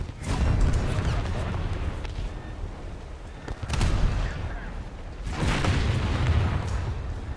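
Naval guns in a warship video game fire at an enemy ship's front turret, with heavy booming blasts at the start, near the four-second mark and again past five seconds, each trailing into a loud rumbling wash.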